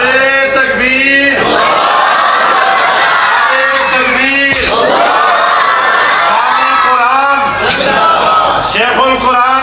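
A crowd at an Islamic religious bayan gathering chants the Nara-e-Takbir slogan in loud, repeated unison shouts, with voices rising and falling in rhythmic waves close up, filling the whole stretch without pause.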